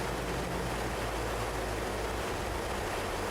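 A steady, dense broadband roar from the jet engines of a craft in the game From the Depths, continuous and loud throughout with a deep low rumble underneath, no voices.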